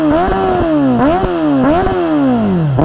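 A Suzuki GSX650F streetfighter motorcycle engine idles close by and is blipped three or four times, each rev rising sharply and falling back in a steady rhythm. No one speaks over it.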